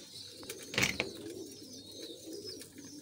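A single soft pigeon coo rises briefly over faint background hiss, with a few quieter chirps around it.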